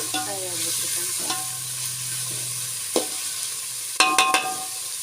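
Whole spices sizzle steadily in hot oil for pulao, a continuous close frying hiss with a few sharp clinks of a ladle against the pan near the end.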